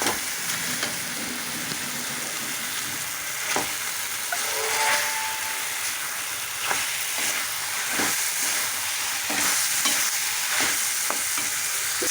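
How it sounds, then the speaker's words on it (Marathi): A brinjal bharit mixture is sautéed in a pan: loud, steady sizzling fills the whole stretch, with intermittent scraping stirs of a spatula close by. "ह्याला मी असंच परतून देणार आहे"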